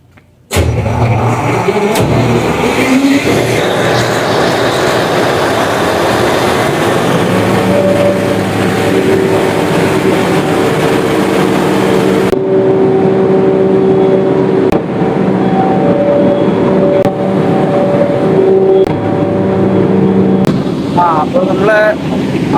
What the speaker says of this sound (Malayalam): ജനറേറ്റർ സ്റ്റാർട്ടിങ്ങിലാണ്.